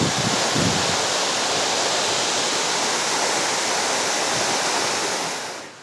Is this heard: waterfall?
yes